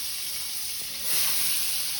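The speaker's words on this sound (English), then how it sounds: "the butter is melting right away" Butter melting in a cast iron skillet gives off a steady, close, even sizzle with a soft hiss that swells briefly louder midway. No one speaks.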